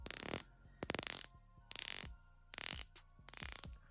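Stainless steel dive watch bezel ratcheting as it is turned by hand, producing five separate bursts of rapid, crisp metallic clicks with short quiet gaps between them, close and clear with no voices.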